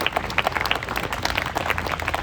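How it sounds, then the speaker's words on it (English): An outdoor audience at a park performance of A Midsummer Night's Dream claps in a dense, lively burst of applause lasting a couple of seconds. "You can clap now."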